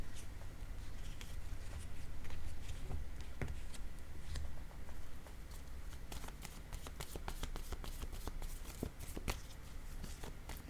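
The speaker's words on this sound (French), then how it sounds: "je vais mélanger mes cartes" Playing cards shuffled by hand in a steady run of crisp riffling flicks and soft ticks, close and moderately loud, with no voices.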